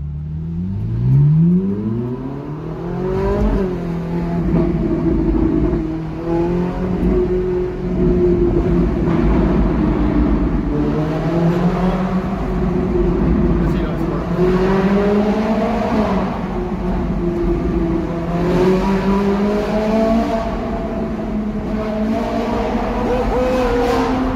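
A Ferrari 458 naturally aspirated V8 with Capristo exhaust revs and accelerates, its pitch climbing and falling through repeated gear changes, loud and close for the whole stretch.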